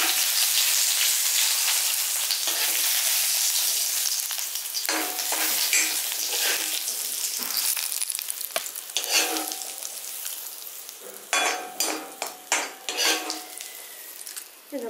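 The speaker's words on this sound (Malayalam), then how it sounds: "ഇനി നമുക്ക് കടുക് വറുത്തത് ഇതിലേക്ക് ചേർത്ത് കൊടുത്തുവെച്ചാൽ മാത്രം മതി" Mustard seeds fry in a hot stone pot for a bitter gourd pachadi tempering, first as a dense loud sizzle and then as sharp popping and spattering bursts with stirring clinks, with no talking.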